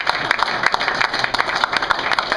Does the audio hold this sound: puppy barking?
no